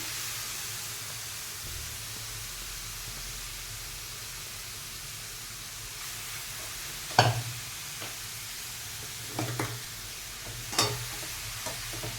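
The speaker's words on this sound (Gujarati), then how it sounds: "હવે ઘી ઓગળી જાય એટલે આપણે બધા છીણને અંદર એડ કરી દેવાનો." Grated carrot dropped into melted ghee for gajar ka halwa, a steady low sizzle with a few sharp scraping stirs of the spoon near the end, no talking.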